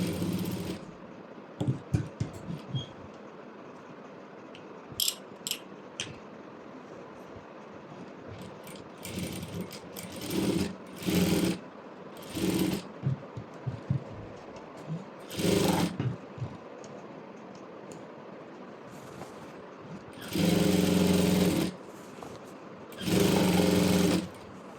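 A sewing machine fitted with a gathering foot stitches saree fabric in several loud mechanical whirring bursts. Short taps and clicks come first, then the runs grow longer with quiet pauses between them.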